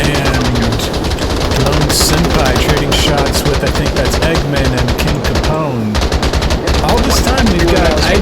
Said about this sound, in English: we got gunshots over on the other side